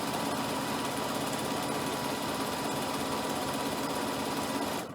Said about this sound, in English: And let it whisk through my machine.